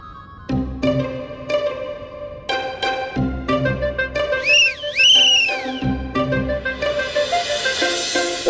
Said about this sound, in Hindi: बाबूजी ने 4 सीटी मारी